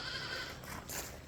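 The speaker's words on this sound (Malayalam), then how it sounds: "മലബാരി പട്ടാട്" Malabari goat bleating in two short, close calls within a brief stretch, with no talk over them.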